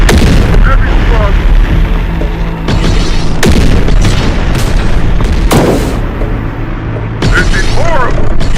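Enemy gunfire and heavy explosions in Terminator Dark Fate Defiance, a battle game, with repeated booming blasts and crackling shots forming a dense, loud, continuous barrage.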